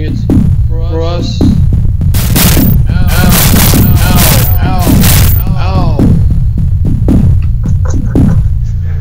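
Rapid bursts of loud video game gunfire crackle in dense volleys, close and sustained over a low throbbing hum, with a voice briefly heard at the start.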